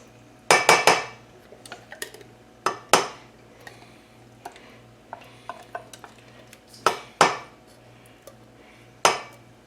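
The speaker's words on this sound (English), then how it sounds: "So I'm going to push this in the bottom of this pan." Spice cake mixture pressed into the bottom of a baking pan, with sharp metallic clanks and scrapes of a utensil against the pan coming in scattered bursts close up over a quiet background.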